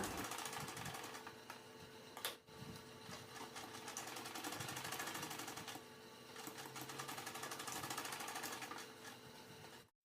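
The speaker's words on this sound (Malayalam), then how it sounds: "ഇതാ ഇവിടെ നിന്ന് ഇങ്ങനെ സ്റ്റിച്ച് ചെയ്ത് തുടങ്ങുക" A sewing machine stitches darts on a blouse lining with a fast, even mechanical chatter, close and continuous for the whole stretch apart from a brief pause, ending abruptly.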